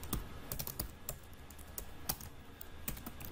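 Text typed on a computer keyboard into a Bootstrap WordPress page builder, with sparse, irregular key clicks heard close but fairly quiet and no voices.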